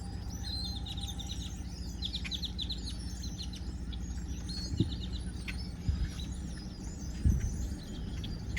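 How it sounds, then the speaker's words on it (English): Birds chirping along Water Street by Rockport Harbor, a busy layer of high twittering calls over a steady low rumble of wind or traffic, with a few faint knocks and no talk. "Listen to the birds just going crazy."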